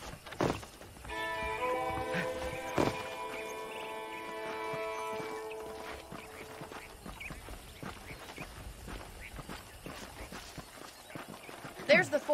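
Horse hooves clip-clop in an uneven rhythm in Red Dead Redemption, over a steady background hum, with a sustained tonal chord early on and occasional sharper knocks.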